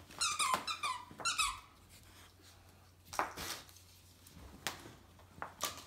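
A rubber squeaky toy is squeezed in quick bursts of high squeals, with a few scattered softer squeaks and rustles in a quiet indoor Christmas setting where a wheaten terrier is present.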